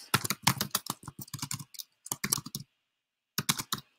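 A computer keyboard clatters in quick bursts of keystrokes as a short note is typed, pausing for about a second before a final brief flurry of taps, close and clear.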